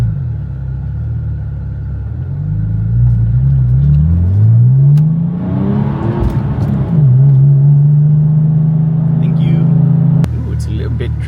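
Car accelerating through traffic during Monterey Car Week, engine rising in pitch through gear changes with a loud rumble, settling into a steady drone before easing off; loud and close.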